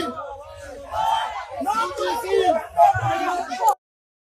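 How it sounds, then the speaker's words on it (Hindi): A crowd at Jantar Mantar shouts protest slogans in loud rhythmic bursts, voices overlapping in a chanted call that rises and falls before cutting off abruptly. "ये लोग वहां पे अभी नरेंद्र मोदी मुर्दाबाद के नारे लगा रहे हैं।"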